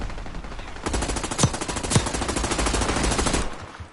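Rapid automatic gunfire in the Warzone Resurgence Rebirth Island battle royale, a loud close continuous burst of fast shots lasting about three seconds with a couple of heavier cracks, then fading out.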